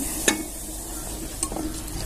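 A spoon stirring rice flour into boiling water in a pot, a thick mixture with a couple of scrapes over a soft steady sizzle, close and quiet.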